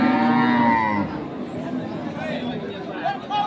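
A dairy cow at Ambari cattle market in Dinajpur lets out one loud, close, drawn-out moo lasting about a second, followed by steady crowd chatter and market bustle.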